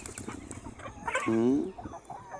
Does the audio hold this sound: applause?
no